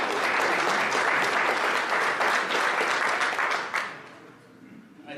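Audience at a Yavapai County Republican Women candidate forum applauds in a dense, sustained burst of clapping that fades out near the end, leaving quieter room noise.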